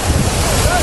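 Rushing floodwater surging through a city street in San Pedro Sula, Honduras, a loud, dense, continuous roar mixed with heavy wind buffeting on the microphone.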